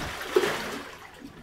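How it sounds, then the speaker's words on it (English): Soapy rinse water from washing a down quilt is poured out of a container, a brief splash and gush that tapers off into a soft trickle. "now we're ready to dump out this rinse water"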